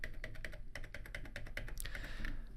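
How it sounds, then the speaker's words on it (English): Computer keyboard keys tapped in a steady, evenly spaced run of crisp clicks, including the Alt key held while the arrow keys are pressed, close and clear with no talking. "you hold down Alt, and you press the arrow keys down"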